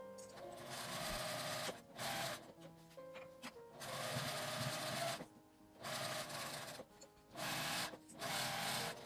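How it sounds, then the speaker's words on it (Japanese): A sewing machine stitches fabric for a small padded eyeglass pouch made from scraps, running in several short loud bursts of rapid mechanical chatter separated by brief quiet pauses, heard up close. "周りをクリップで留めて表布の方から縫います。"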